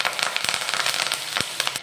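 Curry leaves, fennel seeds and cloves crackle and spit in hot oil for a mushroom gravy, a dense burst of sharp pops and sizzling up close, with no talk.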